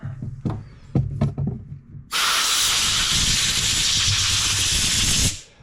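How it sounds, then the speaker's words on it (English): Compressed air blasts steadily at close range, blowing dust off the carburetor of a Bolens push mower with a Briggs and Stratton 400e engine, a loud continuous hiss lasting about three seconds after a few light knocks and clicks. "Blow the dust off."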